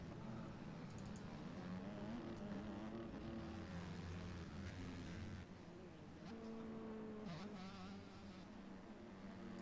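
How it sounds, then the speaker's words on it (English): Two-stroke motocross bike engine revving and ripping at a race, a continuous droning whine that rises and falls in pitch, heard from a distance at a fairly low level. "I love hearing that two-stroke just rip"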